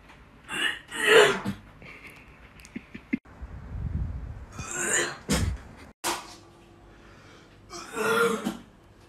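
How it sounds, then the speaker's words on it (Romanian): A man makes a strange, grating throat noise instead of coughing, three rough bursts spaced a few seconds apart amid quiet room sounds and small knocks. "în loc să tușească, scoate cel mai enervant sunet din lume"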